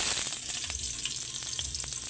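Garlic frying in hot oil, a dense continuous crackling sizzle with faint stirring scrapes, close and steady throughout, no talk.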